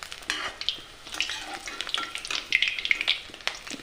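Onion pakoras frying in hot oil and being stirred, a steady close crackling sizzle with bright bubbling pops and occasional scraping from the stirring, heard alone.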